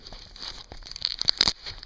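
A short burst of crinkly tearing and crackling as adhesive tape is pulled off polystyrene packaging while unboxing a Zoom Q3HD recorder, close by and quick.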